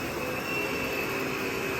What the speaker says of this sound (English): I'm going to turn the power head on. And you can hear the power.